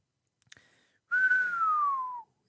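A man whistles a single sustained note that slides slowly downward for about a second, clear and close, preceded by a few faint clicks.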